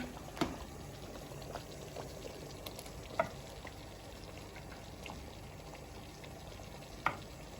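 Thick plum jam bubbling quietly at a low simmer in a pot, with a few sharp pops and spatters breaking through now and then.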